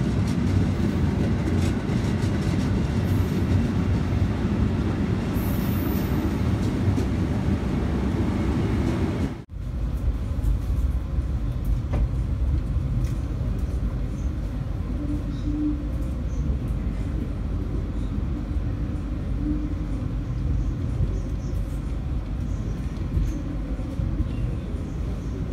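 KA Argo Bromo Anggrek passenger train running on rails, a steady low rumble heard from inside the carriage that holds throughout, with a brief dip partway through.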